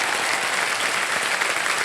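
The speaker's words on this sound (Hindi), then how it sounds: "बार तालियां बज जाएं" Studio audience at a televised quiz show breaks into steady, dense applause, loud and continuous with no voices over it.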